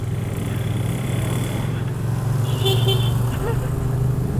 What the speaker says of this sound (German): Hab ich eine Hupe? Ah ja, ich hab eine Hupe.